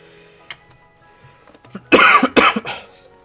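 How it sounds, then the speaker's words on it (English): Several harsh coughs burst out close to the microphone in a tight cluster of about three to four, loud against an otherwise quiet background, with nobody talking. "Sorry for the coughing."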